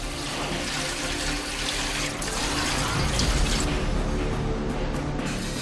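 Steady running water pours and splashes into a basin as the soaking water for a beef eye-of-round cut is changed, a continuous close, moderately loud wash with no voices.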